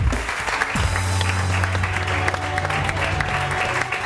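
Studio audience applauding Shahrukh Khan on a Pakistani morning TV show, a dense, steady burst of clapping that holds loud throughout, with a low musical hum underneath.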